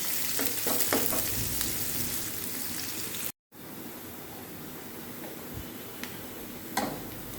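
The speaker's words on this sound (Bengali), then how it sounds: "এই যে রসুনটা আমার ভাজা হয়ে গেছে।" Chopped garlic with chopped onion frying in two tablespoons of oil in a pan, a steady close sizzle with occasional ticks and stirring scrapes, briefly cut by a short silent gap.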